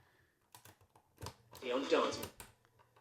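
Piano-key transport buttons on a vintage Toshiba tape recorder clicking, a few short sharp clacks spread over a few seconds, with a longer mechanical whirr and rattle in the middle, fairly quiet and close.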